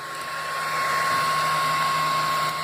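A Freaks3D printer drives its axes home with a steady, close whine and whirring motor hum, a constant high-pitched tone over broadband noise lasting a couple of seconds with no voices.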